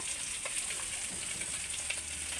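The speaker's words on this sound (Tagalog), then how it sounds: "At ako ay nagpiprito po ng isda." Fresh fish fries steadily in a pan, a continuous close crackling sizzle with scattered pops and no talking.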